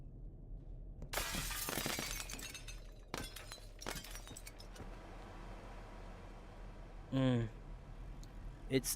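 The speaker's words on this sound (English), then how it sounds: "That's breakable glass." Breakable glass shatters in the Boneworks VR game: a loud crash with tinkling shards, then several sharper breaks and clinks, alongside a voice talking.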